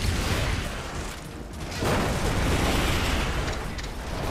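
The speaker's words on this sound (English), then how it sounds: "Must destroy the power core for that force field." A video game explosion destroying a power core that feeds a force field, a loud rumbling blast that swells and lingers in a dense roar for several seconds, with no talk.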